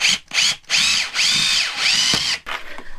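A power drill drives a screw into OSB board while electrical equipment is mounted at an off-grid homestead. Several loud, close whirring bursts rise and stop in turn, with short gaps and no talking.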